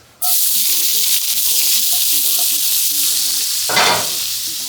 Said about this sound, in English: I'm gonna add the onions first. And we're just gonna toss them right into here.